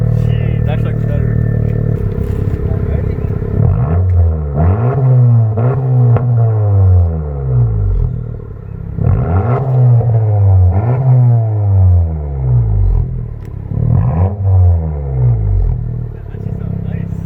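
A Honda Civic 1.5L turbo fitted with a Corvette quad exhaust revs repeatedly, each rise climbing to a rasping peak and falling back. The engine runs loud and continuous under ongoing talk.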